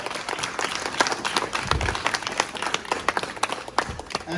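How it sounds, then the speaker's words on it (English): A crowd at a One Hart One Hill Foundation presentation in Buff Bay, Portland, claps hands in a lively, uneven burst with sharp individual claps standing out, fairly close and loud. "could you please clap your hands?"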